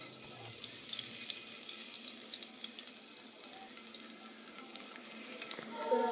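Garlic dropped into hot oil tempered with cumin and mustard seeds sizzles steadily in a home kitchen, a close, continuous hiss with small crackles and pops throughout, fairly quiet and without talk.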